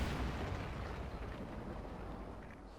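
Artillery shells from a sector barrage in Company of Heroes 2 explode in a steady, dense rumble of blasts and debris, loud and continuous without a break.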